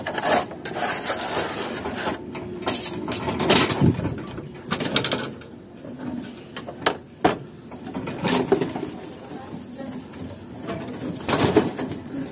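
Racing pigeons around an outdoor loft, with soft cooing and rustling wing and rubbing sounds nearby, steady and moderately faint, punctuated by a few sharper clicks.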